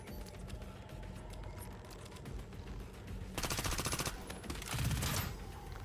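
Turrets in Reverse Collapse fire rapid mechanical clatter throughout, then two louder, denser bursts of sustained automatic gunfire erupt near the end.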